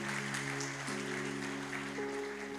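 Applause from a church congregation during a Portuguese-language worship service, a steady wash of hand claps held at a moderate level under sustained organ or keyboard chords.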